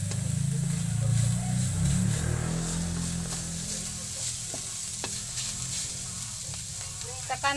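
Oil sizzles and crackles in a frying pan as food is stirred, with a steady close fry and occasional clinks of a utensil, cooking broccoli with oyster sauce.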